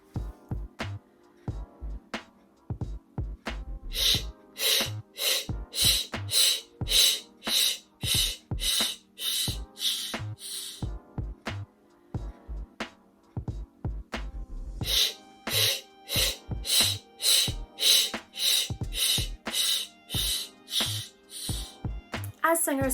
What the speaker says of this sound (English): exhale, giving short spurts of shh, shh, shh, shh